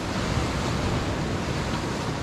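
Sea waves break on a shore during a fishing trip, a steady, broad wash of surf with wind buffeting the microphone, loud and continuous with no clear separate crashes and no talking.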